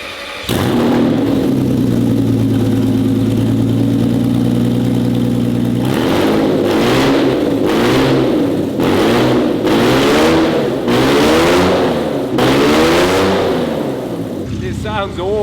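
A Pagani Zonda V12 engine running with no exhaust fitted, loud and close, idling steadily before breaking into a series of sharp revs that rise and fall, with voices talking over it.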